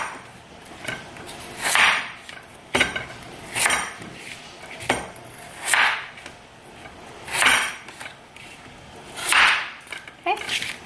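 A kitchen knife chopping a daikon radish into chunky pieces on a cutting board for wonton soup: about eight crisp, close knocks spaced a second or so apart.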